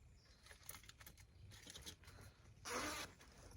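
A quick zipper pull rasps near the end, brief and close, after soft rustling and handling noises.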